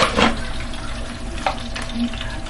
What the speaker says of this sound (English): that's splattering everywhere and I don't want that